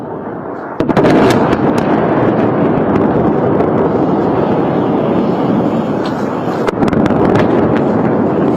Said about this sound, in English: There have been multiple explosions.